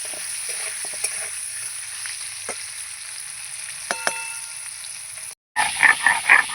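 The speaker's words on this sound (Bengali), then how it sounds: "একটু হলুদ দেব ভালো করে নেড়ে চেড়ে নিয়ে পটলটা আমি ভেজে নেব" Pointed gourd fries with turmeric in a pan under a quiet, steady sizzle broken by occasional spoon clinks. Near the end the sound cuts out briefly and then returns louder with stirring bursts.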